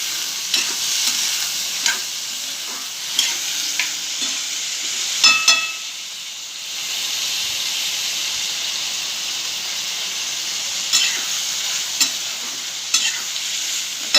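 Cauliflower pieces fry loudly in a hot pan, a steady sizzle broken by repeated scraping stirs every second or two, close and clear with no talking.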